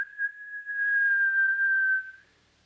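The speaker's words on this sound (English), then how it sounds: "He pushed it open and gave a shrill whistle." A single shrill, steady whistle held for about two seconds, clear and close, then cut off into silence.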